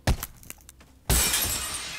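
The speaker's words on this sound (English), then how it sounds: "In case of emergency, break glass to open." Emergency glass shatters inside a video game facility: a sharp, loud crash with a lingering bright spray of falling shards, preceded by a few softer clicks and thuds, with no talking.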